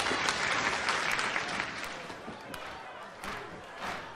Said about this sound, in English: You can hear the fans here, in respect, of course, just cheering, reacting to the action going on.